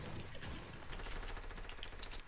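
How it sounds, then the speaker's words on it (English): SMG gunfire in a shooter game, a quiet, continuous rapid rattle of automatic shots sounding somewhat distant and muffled for about two seconds. "I just spammed him with my SMG"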